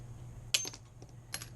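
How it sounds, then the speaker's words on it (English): Mosaic nippers snipping glass pieces for ornaments, with two sharp, bright clicks and crunches a moment apart, close and crisp over a low background hum, with no speech. "just taking a set of mosaic nippers and just kind of randomly cutting them"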